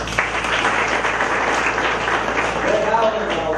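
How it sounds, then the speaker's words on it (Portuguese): Audience applause at a Belcorp event in Sobral, Brazil: dense, continuous clapping from a crowd that holds steady throughout, with a voice faintly audible underneath. "uma salva de palmas para você."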